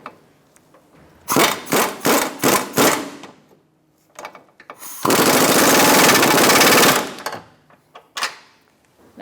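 A wrench tightening a control arm bolt on a 2013-2022 Buick Encore: a quick series of loud rattling bursts, a pause, then a sustained two-second mechanical whir, followed by a few faint clicks and clunks.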